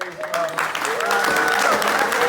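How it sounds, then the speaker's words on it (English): A short burst of audience applause for author James Barber at the Chiswick Book Festival, with voices calling out over the clapping throughout. "So a huge round of applause, please, for James"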